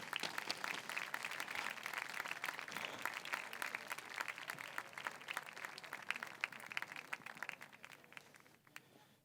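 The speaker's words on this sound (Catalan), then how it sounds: "Un fort aplaudiment" Dense, steady applause from an audience at a night troubadour event during Montblanc's medieval week, many hands clapping together for the whole stretch and thinning slightly at the very end.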